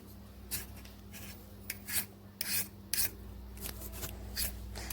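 Potatoes scraped with a handheld vegetable peeler in a home kitchen, a series of short, rasping strokes at an uneven pace, close and fairly quiet over a low steady hum.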